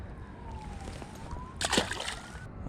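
A small pike is released back into the water, making one brief, close splash partway through, set against quiet outdoor background noise.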